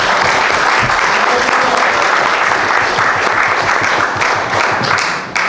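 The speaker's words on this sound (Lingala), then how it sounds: "D'ailleurs, je vous demande de l'applaudir." Loud, dense applause from an assembly audience honouring the Honourable Bazaïba, sustained evenly for several seconds without a break and with no voices over it.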